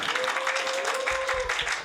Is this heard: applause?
yes